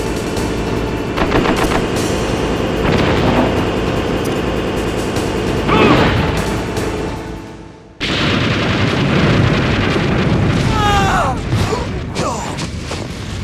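Grenade blasts and rapid machine-gun fire in Metal Gear Solid on PS1 during the Vulcan Raven fight, a loud continuous barrage with booming explosions, a brief drop near the middle, then renewed fire with ringing metallic bursts.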